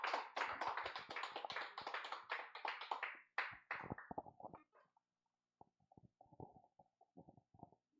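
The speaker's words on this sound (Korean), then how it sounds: "자, 우리 목사님 박수로 맞이하겠습니다." A church congregation claps to welcome the pastor, a dense, loud burst of applause for about three seconds that thins into scattered, fading claps before a few faint later taps.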